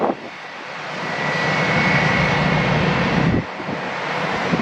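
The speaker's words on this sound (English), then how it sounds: "On takeoff roll right now is 737-900, November 863 Delta November." A Delta Boeing 737-900 jet roars down the runway on its takeoff roll at Atlanta airport, a loud sustained engine rumble and whine building and swelling, heard from nearby without talk.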